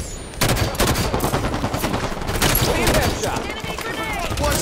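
Rapid bursts of enemy gunfire in Halo 5 multiplayer, dense automatic shots crackling close and loud in overlapping volleys with brief gaps, fairly continuous across the whole stretch.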